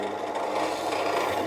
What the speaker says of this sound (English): because I'm cutting into the board like this, it also acts as a countersink